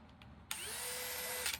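A DeWalt cordless drill on a 2 amp-hour battery whirs up and runs steadily at a high, constant pitch for about a second before stopping, loud and close.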